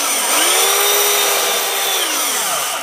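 A small power carving tool buzzes at a high pitch against a solid oak trunk while detailing feathers on an owl sculpture, a loud, close, continuous whine that rises and falls slightly as it bites into the wood.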